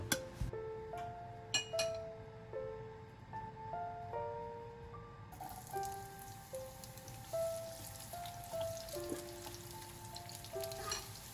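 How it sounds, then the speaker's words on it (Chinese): Shallots frying in hot oil, a steady crackling sizzle that carries through throughout, with clear musical tones playing over it and a few light clinks near the start. "烧熟热油，爆香红葱头"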